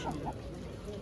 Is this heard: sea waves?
no